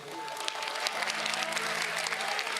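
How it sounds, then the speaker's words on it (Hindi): Loud, steady applause from a crowd at a Pran Pratishtha temple festival at a Shyam temple in Bankura, continuous clapping filling the whole stretch, with a faint voice and a thin tone running underneath. "जोरदार तालियां बजाए, जोरदार"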